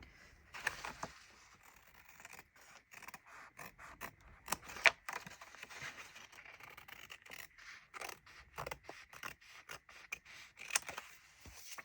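Quiet, irregular snips and paper rustling, close by, with short bursts of scraping separated by brief pauses and no talking.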